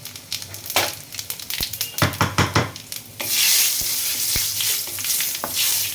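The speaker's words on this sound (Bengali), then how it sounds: "তেলটা গরম হয়ে গেছে এরপরে তেজপাতা দিচ্ছি গোটা শুকনো লঙ্কা আর দিচ্ছি" Bay leaf, dried chillies and whole cumin dropped into hot oil, starting with scattered crackles and pops, then breaking into a loud, steady sizzle close by with occasional sharp taps of a utensil against the pan.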